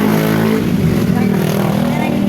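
A newly bought motorcycle idles with a steady low engine drone at close range, people chatting over it after a birthday outing.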